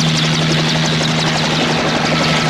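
A helicopter in the 1988 film Nukie makes a loud, steady rotor roar with rapid blade chop that stays constant and close for the whole stretch, with no voices.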